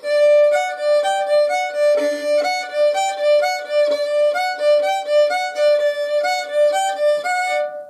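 A fiddle plays the second measure of a melody from an intermediate lesson, bowing a steady run of clear, bright notes one after another, close and alone.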